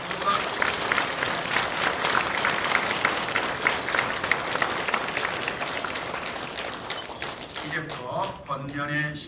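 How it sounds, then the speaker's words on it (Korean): A church congregation at an anniversary, retirement and ordination thanksgiving service claps loudly and steadily in a dense roomful of hands. Near the end the applause thins and a voice begins talking. "힘찬 박수 한 번 해주시고"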